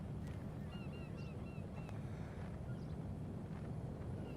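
Birds in a roleplay video game give several short honking calls at moderate distance over a steady windy, rumbling background bed.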